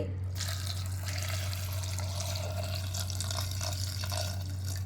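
Water being added to a pressure cooker holding lentils, a steady running and splashing stream that continues throughout over a low constant hum, with no talking.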